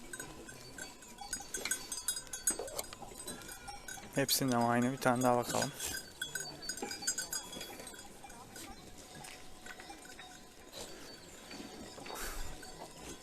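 Goats bleat clearly in a farm pen during evening feeding, with one prominent drawn-out bleat standing out amid shuffling, clanking and other livestock noises while someone talks throughout.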